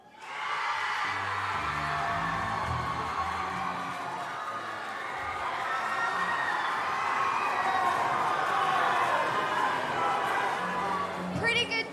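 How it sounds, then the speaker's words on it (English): Students from a school house scream and cheer together in a house competition, a sustained loud crowd roar lasting the whole stretch with children's shouts and whoops rising near the end. "West House, scream if you want to win."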